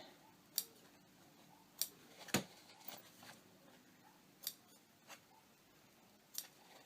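Scissors snip thread and fabric corners of homemade cornhole bags, several sharp, quiet isolated cuts spaced irregularly over a few seconds in a calm room with no talking.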